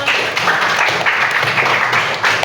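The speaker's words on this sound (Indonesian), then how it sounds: "jadi kita beri tepuk tangan untuk Adel teman-teman." A class of students applauds together in a room, a dense, even patter of many hands clapping at once, fairly loud and sustained without a break.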